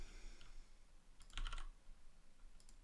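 Quiet typing on a computer keyboard during a programming session, with a few soft scattered keystrokes and a brief cluster of louder clicks in the middle.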